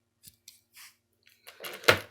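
Scissors on a Gerber Splice multitool open and close in a few light metallic clicks, then a louder, closer snip near the end, with silence between.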